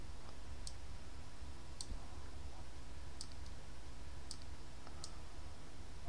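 Mouse clicks on a computer while joining a Zoom meeting: five sharp, isolated clicks spaced about a second apart, faint and close, over a steady hum of room noise with no speech.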